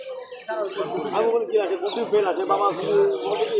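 Pigeons coo and flutter at a crowded pigeon market in North 24 Parganas, Bengal, where Sirazi birds are sold, their calls mixing with overlapping nearby voices and bustle throughout.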